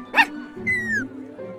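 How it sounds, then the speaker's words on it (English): Puppies bark and yip in the Minecraft Story Mode video game, one bright high bark followed by a drawn-out whining yelp, with game voices talking underneath. "Got some fine puppies here."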